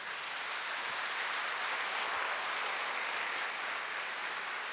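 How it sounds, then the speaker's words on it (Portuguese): A church congregation applauds during a sermon, giving steady, dense clapping that holds evenly throughout with no voices over it. "Aplaude a palavra de Deus, por favor."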